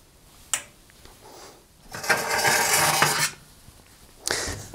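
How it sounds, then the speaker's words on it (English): Metal oven shelves in a Rangemaster cooker slide and scrape out of their runners, a sharp clank followed by a sustained rasping rub lasting about a second, then another brief metallic knock. "I'm going to start by removing any shells from inside the oven"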